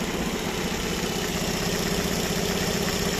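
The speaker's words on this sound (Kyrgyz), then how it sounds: "мотор чөткү оталып турат" A 2015 Kia Rio with a 1.4 litre engine and automatic gearbox idles, giving a steady, even mechanical hum with a faint rhythmic pulse and no voices.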